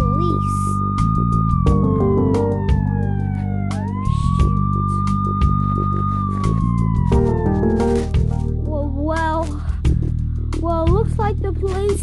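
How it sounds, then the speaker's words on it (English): A police siren wails with rising and falling tones over a steady rhythmic background, with a voice talking under it later on. "what's that siren sound?"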